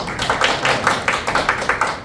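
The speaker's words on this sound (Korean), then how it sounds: "큰 박수 부탁드립니다" Audience at a policy forum on waste cement hazards in school facilities, held at the National Assembly members' office building, claps in a quick, fairly rhythmic burst, loud and close, without talk.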